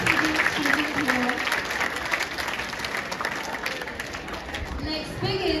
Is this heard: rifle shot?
no